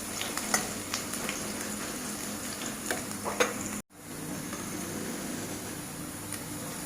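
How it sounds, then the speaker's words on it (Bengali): Whole bay leaves and white cumin dropped into hot oil as tempering beside frying potato pieces, a steady close sizzle with a few stirring clinks and a brief cut partway through. "তেজপাতা ফোড়ন দেব।"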